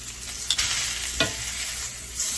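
Venison backstrap sears in a seasoned cast iron pan, giving a steady loud sizzle with a few sharp scrapes and thumps as the meat is turned.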